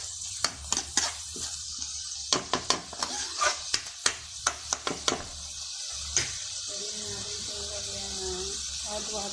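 Mushrooms frying in a pan for a burger steak dish, with a steady sizzle and repeated sharp clatters of stirring against the pan, some louder bursts as they are tossed.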